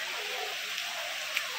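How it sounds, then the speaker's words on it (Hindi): Rain pours down outdoors on a hill near a Shiva temple during a Kavad Yatra pilgrimage, a steady, soft hiss of falling water with a faint drip or two standing out. "इधर से बारिश आ चुकी है गाइस"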